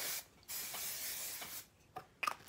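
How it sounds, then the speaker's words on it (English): A glossing hair spray is sprayed onto short styled hair in a few close, hissing bursts with short pauses between them, followed by faint handling clicks. "So I'm gonna hit it with glossing spray first."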